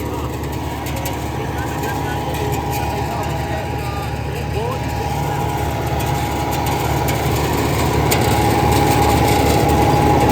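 A New Holland 850 tractor runs a Supreme 60-cutter super seeder at around 2000 RPM, a steady loud engine drone with a constant hum and rattle, with a voice talking over it.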